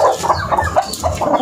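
Mother hens cluck close by in a rhythmic series of short, throaty calls, fairly loud and alone without talk.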